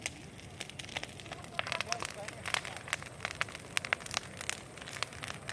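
Large outdoor campfire crackling and popping with irregular sharp snaps over a steady low rumble, heard from a few metres away.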